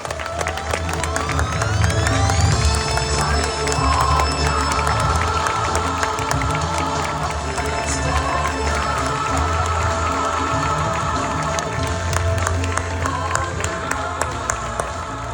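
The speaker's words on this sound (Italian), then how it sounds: "Accogliamo con un grande applauso la professoressa Maria De Muro." Loud audience applause and cheering on a Sardinian radio-show stage, steady clapping mixed with whoops and voices over continuous background music throughout.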